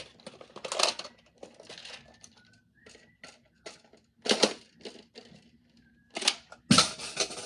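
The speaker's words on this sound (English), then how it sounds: "Like I said with the 12 round magazine, if you insert it in," A 12-round magazine is pushed into a Buzz Bee Adventure Force toy blaster, with close plastic clicks, rattles and short scraping bursts arriving irregularly, some sharp snaps standing out between quieter handling noises.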